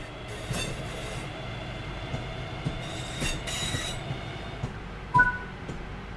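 Train driving video game audio: a train runs steadily with a rumbling rail roar, rhythmic wheel clatter and brief squeals, with a sharper metallic clank near the end and no voices.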